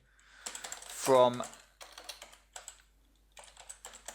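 Bursts of computer keyboard typing, quick irregular key clicks in short runs separated by pauses, close and fairly quiet, with a brief spoken word partway through.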